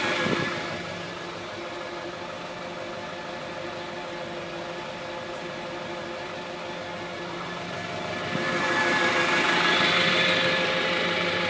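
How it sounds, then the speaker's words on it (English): A 2004 AVGAS fuel truck with a 1,000-gallon tank runs its engine with the PTO-driven pump engaged, giving a steady, close mechanical drone that swells louder near the end. No one speaks. "You gotta put the PTO to turn on the pump."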